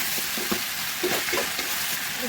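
Fish with flat beans and potatoes sizzling in a pan while being stirred, a steady hiss with soft scraping strokes of the spoon, close and alone.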